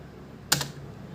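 A single sharp keystroke clicks on a computer keyboard while Hindi text is typed, a short crisp tap over quiet room hiss.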